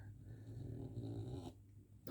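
A dog gives one long, deep rumbling snore lasting over a second, close and fairly quiet, followed by a short snort-like breath at the end in an otherwise quiet room.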